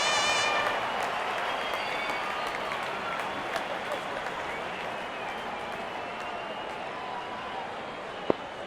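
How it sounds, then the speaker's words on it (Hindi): A stadium crowd applauds a boundary during an IPL cricket match between Mumbai Indians and Punjab Kings: a steady wash of clapping and cheering that stays even throughout, with a sharp click near the end. "जब अपोनेंट फैंस भी ताली बजा दे तो समझ जाइए बैटिंग कमाल की हुई है"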